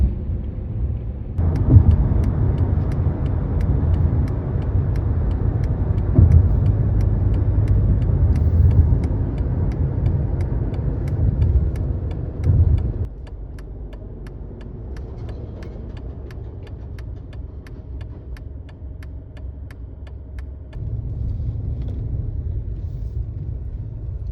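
A low, steady rumble of road and engine noise fills a car interior while driving, loud and continuous before dropping to a quieter hum, then rising slightly again, with no speech.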